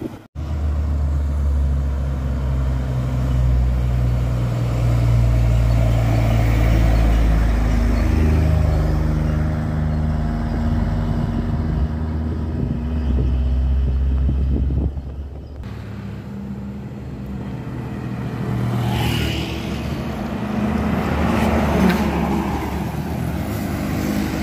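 Steady engine rumble of cars passing close by on a steep hill at the Jambi–Riau border, a continuous low drone with shifting pitch as vehicles go past, no voices.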